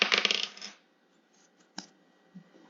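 Small dice rattle and clatter across a tabletop in a burst, then settle with a couple of faint isolated clicks and taps in a quiet room.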